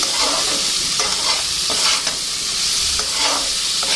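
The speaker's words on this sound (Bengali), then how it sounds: "এটা এখন ভালো করে মশলাটা ভাজে নি" Ground spice masala with tomato, green chilli, cumin and coriander powder frying and being stirred in a pan, a steady close hiss with scraping strokes throughout, no talking.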